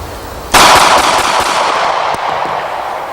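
Single loud, close shot from a large custom-built handgun called the Meltdown, a sharp blast followed by a long, slowly fading outdoor rumble.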